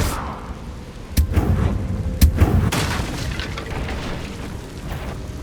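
Incendio fire spell cast in Hogwarts Legacy gameplay, heard as a few sharp booming bursts near 1.2, 2.2 and 2.7 seconds over a low rumbling game backdrop, with no talking.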